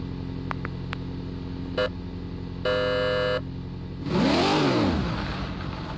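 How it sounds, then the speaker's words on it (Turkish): A BMW i8 in the Car Parking Multiplayer mobile game idles with a steady hum. A few short electronic beeps sound, then the engine revs up sharply as the car pulls away from a standstill. "Arabanın kalkışa bakar mısınız ya?"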